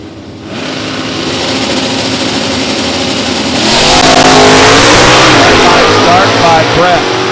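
An old-school Chevrolet Camaro and a new-school Ford Mustang at a drag strip launch together, engines building from a steady roar into a loud, rising rev, with a track announcer talking over the race.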